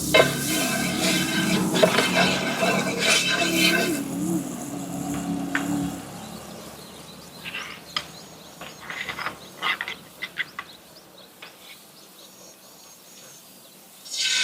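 Egg frying in a pan for a cheese bread omelette, a steady close sizzle with stirring and scraping during the first seconds, then quieter crackling and a few clicks and clatters toward the end.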